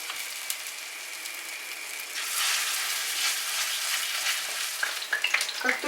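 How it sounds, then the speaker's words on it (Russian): Lazy belyashi, quick meat-filled fritters, frying in heated vegetable oil, with a steady close sizzle that swells louder partway through and a few light crackles and spatters near the end. "Обжариваем ленивые беляши на разогретом растительном масле."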